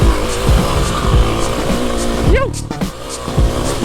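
Kawasaki KLX300 dual sport motorcycle engine revving loudly nearby with rising and falling pitch and a brief tire screech during a burnout, while a voice shouts over it.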